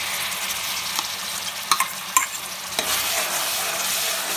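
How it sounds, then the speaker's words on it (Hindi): Tomatoes cook in a frying pan for Mumbai street-style pav bhaji, giving a steady sizzle with a few sharp scrapes and clacks of a stirring spoon, close up, with no talking. "टमाटर उन्नी देर तक पकावे जिनी देर तक टमाटर अपने गल नहीं जाते।"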